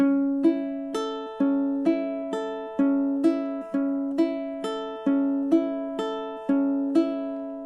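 Measures 3 and 4 of an easy ukulele fingerpicking etude played back to back: about sixteen evenly paced plucked notes, close and ringing, with a repeating pattern and no voice.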